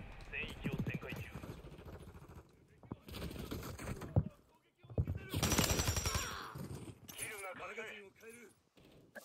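Bursts of gunfire in Call of Duty: Modern Warfare III on PS5 crackle in quick volleys, mixed with brief electronic effects, while a person talks between and over the shots.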